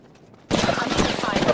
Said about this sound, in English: Being shot by the guards on town.